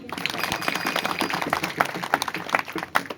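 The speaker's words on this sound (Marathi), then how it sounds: "म्हणून त्यांच्यासाठी एकदा जोरदार टाळ्या द्या." Audience clapping for the young people at a Marathi kirtan during a harinam week, a short burst of dense, lively applause from a crowd, fairly close and fading slightly at the end.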